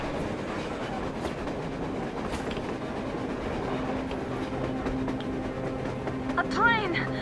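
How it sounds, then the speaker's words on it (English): A train rumbles past on the surface in the post-apocalyptic shooter Metro Exodus, a continuous heavy rolling roar with rhythmic wheel clatter, carrying on under excited voices and ending in a high squeal. "A train! A damn train on the surface!"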